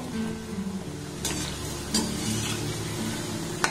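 Small pieces of madan bhaja dough fry in hot oil, a soft bubbling sizzle under a low background hum, broken by a few sharp clinks of a utensil against the pan.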